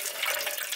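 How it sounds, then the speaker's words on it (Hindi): Unpolished pigeon pea lentils (arhar dal) are washed in water, a brief close splashing and rushing of water with no voices. "अरहर का दाल है, इसको धो लेते हैं, पॉलिश वाला नहीं है, बिना पॉलिश वाला है,"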